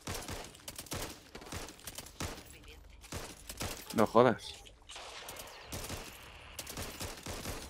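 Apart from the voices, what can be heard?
rifle gunfire in the video game Back 4 Blood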